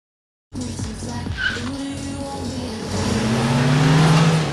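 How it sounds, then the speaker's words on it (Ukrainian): Roaring car engines at a drag racing event in Khmelnytskyi, with revving and tire squeal building into a loud, sustained howl that swells toward the end. "Гуркіт моторів і чорні смуги на бетоні."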